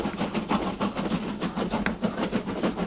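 A train runs along its rails with a steady rhythmic clatter of wheels and a broad rumbling roar, loud and continuous throughout.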